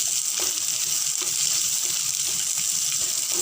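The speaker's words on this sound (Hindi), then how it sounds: "अब प्याज को 1 मिनट भूनने के बाद हम इसमें डाल देंगे लहसुन, अदरक और काजू।" Onion, garlic, ginger and cashews sizzle in a hot pan for a kadai paneer, a steady bright crackle with a few soft stirring knocks and no talking.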